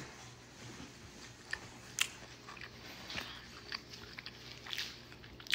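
Someone bites and chews cheesy garlic bread served alongside grilled fajita shrimp, giving a few sharp crunchy bites followed by soft, close chewing, with no talking.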